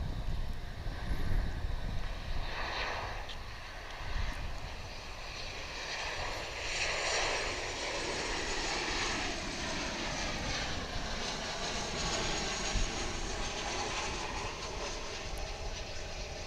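A jet airliner arriving on the runway at DFW International Airport, heard as a steady, fairly distant engine roar and whine that holds throughout with shifting wind-like texture.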